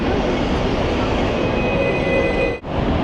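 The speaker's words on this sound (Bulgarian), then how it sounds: "И ето го този уникален трамвай, за който четах." A Hong Kong tram rumbles past close by, a steady loud rolling roar with faint high-pitched wheel squeal lines, briefly dipping just before the end.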